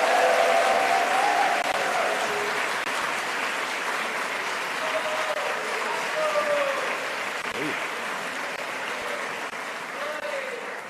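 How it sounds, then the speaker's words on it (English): Sustained applause from a graduation ceremony audience honoring an award recipient, a dense even wash of clapping hands throughout with faint voices and cheers mixed in. "Ladies and gentlemen, a round of applause for Mr."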